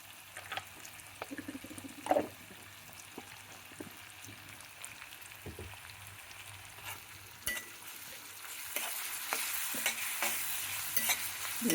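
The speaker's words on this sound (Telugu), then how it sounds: "బాగా వేగనివ్వాలండి." Ginger-garlic paste frying and sizzling in a pan while being stirred, a steady close crackle with occasional scraping clinks that grows brighter and more intense toward the end.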